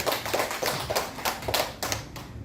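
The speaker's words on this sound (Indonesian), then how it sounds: "Tepuk tangan untuk semua Bapak Ibu." Audience applause for teachers at a school training session on positive culture, heard as loose, uneven hand clapping from a modest group, fairly close and moderately loud, with clusters of sharper claps rising and falling.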